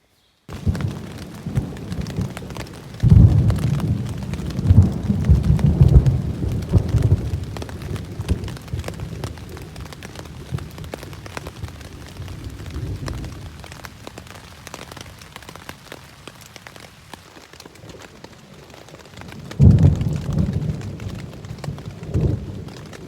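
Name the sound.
loud thunder and rain during a thunderstorm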